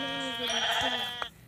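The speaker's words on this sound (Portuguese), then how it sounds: "mais uma ovelhinha" A single sheep bleats once, loud and close, in a wavering nasal cry lasting about a second before cutting off, with a faint background hum.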